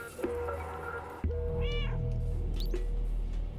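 A cat in the video game Stray meows twice, a clear drawn-out call followed later by a short one, over a low steady in-game background hum.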